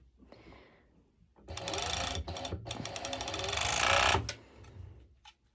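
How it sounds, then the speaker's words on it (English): A serger overlocks the crotch seam through Lycra and lining fabric for pole dance half skirt bottoms, a close, steady mechanical whirring burst of a few seconds after quieter handling sounds, then stopping abruptly. "I will be serging the crotch area on both my lycra and my lining"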